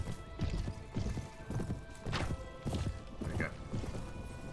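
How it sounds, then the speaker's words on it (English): A fast horse gallops in Mount & Blade Warband, its hooves pounding in a quick, repeating clip-clop rhythm, loud and close, with a brief whinny partway through and no talking. "Luckily I'm on my fast horse."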